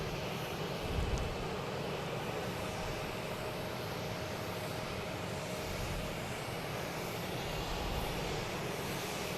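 A Cape Air plane arriving from Augusta at Logan Airport, its engine a faint, steady drone far off under constant wind-like outdoor noise on a warm day, with no talking.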